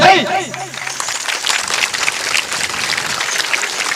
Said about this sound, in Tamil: எந்த ஊர்ல இவ்வளவு கை தட்டி நான் கேட்டதே இல்லை